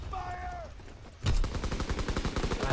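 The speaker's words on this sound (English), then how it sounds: "run with the shotgun and fire." Shotgun fire in Call of Duty WWII team deathmatch on the Ardennes Forest map, starting with a loud close blast and followed by a rapid run of sharp, evenly spaced shots.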